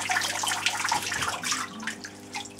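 Water drains and trickles from a handmade paper mould screen lined with doubled fishing net, heard at a paper-making workshop in Ohrid as a steady close splashing hiss that gradually thins into lighter dripping.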